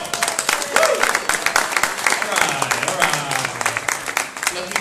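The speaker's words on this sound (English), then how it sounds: "And a big applause for everyone for being here, and for our guests" Applause from an audience at a Speck&Tech tech meetup, a dense, steady patter of many hands with some whoops and voices mixed in, fairly close and loud throughout.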